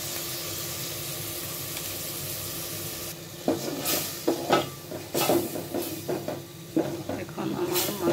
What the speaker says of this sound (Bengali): আমার পেস্টটা ভাজা হয়ে গেছে, আমি অর্ধেকটা তুলে নেব। দিয়ে দিচ্ছি খাসির মাংস কুচি।